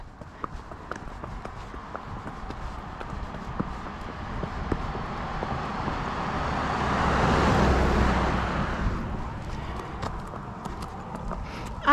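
Horse hooves clip-clopping during trailer loading practice with a mare new to trailering, steady irregular thuds on a hard surface amid outdoor noise, swelling louder for a few seconds midway.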